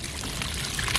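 Water pours steadily into a small basin holding a large live fish after village pond fishing, a close, continuous splashing rush with no pauses.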